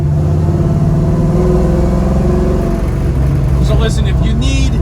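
A 1971 Nova's engine revs loud and close with a steady rumble, then drops pitch as it downshifts, with a brief higher mechanical whine near the end.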